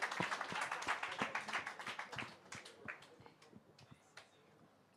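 Audience applause with scattered clapping at a film music event, dense at first and thinning out over the seconds, with a voice speaking over parts of it.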